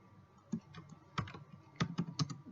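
Several separate key taps on a computer keyboard while text is typed into a Word document, quiet and close, coming in small irregular clusters with no voices.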